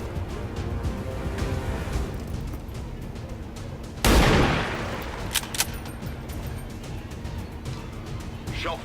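A single gunshot in the XCOM 2 video game, a loud, sharp blast about midway that decays over a second, set against quieter game ambience and scattered clicks, with a voice speaking faintly at times.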